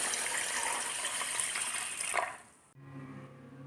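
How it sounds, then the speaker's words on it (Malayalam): Water gushes from a tap into a vessel of washed raw rice soaked for vattayappam, a steady close splashing pour that cuts off abruptly near the end, leaving a faint hum. "ഇനി ഇതിലേക്ക് വെള്ളം ഒഴിച്ച് വയ്ക്കാം"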